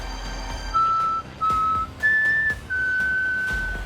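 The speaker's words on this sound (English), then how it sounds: "an unaware individual confidently whistled at the creature to gain its attention." A person whistles outdoors in daylight, giving four clear sustained tonal notes with short gaps between them, the pitch stepping up and then settling lower, over faint background noise.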